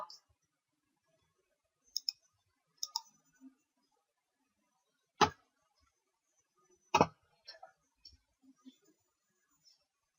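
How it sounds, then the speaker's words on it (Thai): A computer mouse clicking while OrCAD circuit software is used, heard as a few sparse, sharp clicks spaced seconds apart against near silence, close and fairly quiet. "คลิกโอเคค่ะ"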